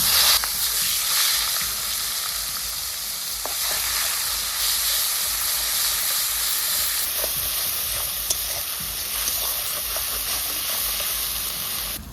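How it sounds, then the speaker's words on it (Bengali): Onion paste fries in hot oil with whole garam masala in a pan, a loud, continuous close-up sizzle and hiss that runs unbroken from start to end. "পেঁয়াজটা দু মিনিট ভেজে নিয়েছি"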